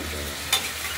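Fried pointed gourd stirred into spice paste in a pan: a low steady sizzle with a single quick scraping clink of the spoon midway, close by, with no talking.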